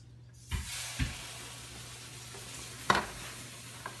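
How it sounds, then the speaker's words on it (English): A whisk stirring roux into a simmering pork green chili broth, with soft scraping and a few sharp clinks against the pot over a steady low hiss. "And mix it with a whisk, get the lumps out of it, then add it to the rest of the broth."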